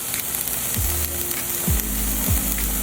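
Chopped onions sauté in butter in a pan for a homemade curry, a steady close sizzle and crackle running throughout with a few low clunks of the pan or spoon underneath.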